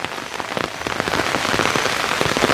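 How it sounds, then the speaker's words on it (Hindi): Heavy rain drums steadily on an umbrella outdoors in a hilly mountain setting, a dense continuous patter of drops that holds loud and close throughout with no voices. "जैसे ही मैं यहाँ पे पहुँचा बारिश भी तेज़ हो गई भाई"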